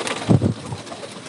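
Two quick low coos from flying pigeons, near and fairly loud, followed by a faint fading murmur.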